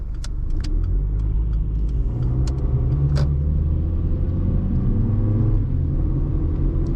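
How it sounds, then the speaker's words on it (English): A 2004 Acura EL car engine runs with a steady low rumble throughout, holding a constant loud level with faint clicks and ticks on top. "you can hear that engine going to work"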